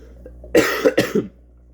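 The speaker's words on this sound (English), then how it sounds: "this cough is getting really bad" Two or three harsh, close coughs in quick succession, loud against a quiet background hum.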